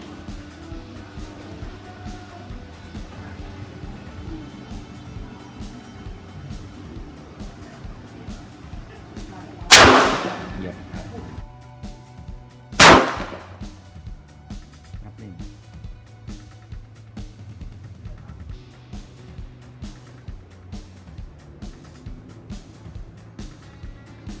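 Two sharp gunshots from a Taurus G2C pistol crack out a few seconds apart over a steady low background hum.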